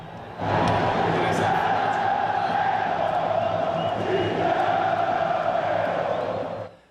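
Football supporters cheer and roar in a loud, sustained crowd din as Vila players come over to celebrate a derby win with them, the noise steady for several seconds before cutting off.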